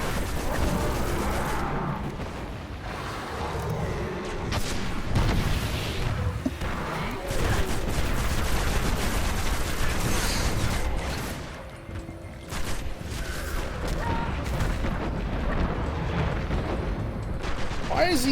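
Continuous gunfire in the video game Destiny, dense overlapping shots and booming impacts running nearly throughout at moderate volume, with a brief lull near the middle.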